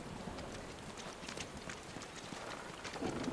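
Steady rain pours with a dense patter and splashing on surfaces near a giant bridge over a big drop in Final Fantasy VII Rebirth, constant and moderately loud throughout.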